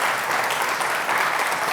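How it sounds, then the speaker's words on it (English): Audience applause at a community awards ceremony, a steady wash of many hands clapping at once, even and sustained through the short stretch with no break. "But a round of applause, none."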